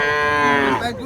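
Cattle at a stockyard in Mantalongon, Barili let out a single loud, close moo that swells and then trails off, standing alone without talk.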